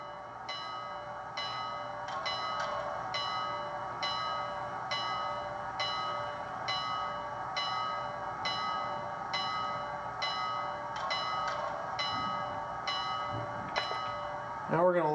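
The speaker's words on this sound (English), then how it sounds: "First, F1 is obviously the bell," A DCC sound-decoder locomotive bell in a Bachmann Berkshire HO scale model of Pere Marquette 1225 rings steadily with regular, evenly spaced metallic strikes, thin and clear against a low hum.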